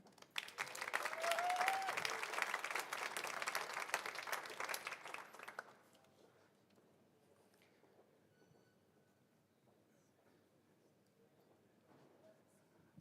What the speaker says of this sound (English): I ask warm applause for Abdul Hafid from our long-standing partner Manasati 30 from Yemen